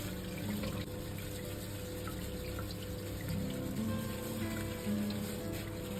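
A soaked Aleppo pine seed mixture for Tunisian zgougou pudding is poured through a strainer, giving a steady, continuous watery trickle and splash close by, with no talking.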